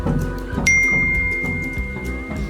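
A single bright notification ding rings out and lingers with a sustained tone over background music.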